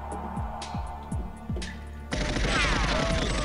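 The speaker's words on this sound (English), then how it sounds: "whoa, where's the bullets coming from?" Gunfire in the GoldenEye 007 Mario 64 mod game: a few spaced single shots with falling tails, then a dense, loud burst of rapid automatic fire that carries on to the end.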